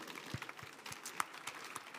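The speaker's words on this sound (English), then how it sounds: "Big round of applause for Gnanli as well." A conference audience applauds a speaker at a construction-themed panel at ChangeNOW 2024. The clapping is faint and scattered, with distinct claps heard at a distance, and there is no talking.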